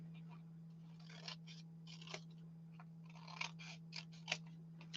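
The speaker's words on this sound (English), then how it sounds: "And I don't need it to be that wide, so I'm going to trim." Scissors trim a strip of paper for an altered envelope craft project: soft, close snipping and rustling in short irregular bursts over a steady low hum.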